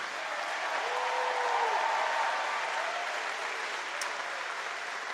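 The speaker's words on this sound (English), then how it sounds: "How about a huge round of applause for everyone from Suzanne?" Sustained applause from a large crowd at a national Liberal Party political convention, a dense steady roar of clapping filling the hall for the full stretch, with a few faint cheers rising over it.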